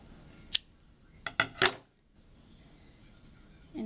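Scissors cutting the remaining yarn on a crocheted geometric earring: one close, crisp snip followed by three quick snips, quiet and alone.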